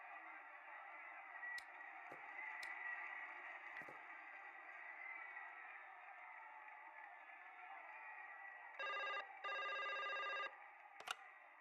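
A telephone in the Broken Sword 5 video game rings in short electronic bursts, two rings near the end, over a faint steady background hum.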